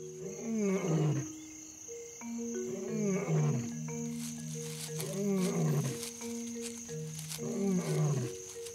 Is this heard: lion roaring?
yes